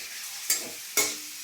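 Boiled pasta fries with carrots in a pan, where a quiet background sizzle is broken by two sharp stirring scrapes about half a second apart, each with a hissing flare.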